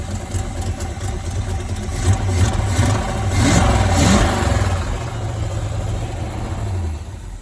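A V8 car engine runs rough and misfires because not all eight cylinders fire, and it has no coolant. It idles loudly up close, with uneven revs and a lumpy rumble throughout.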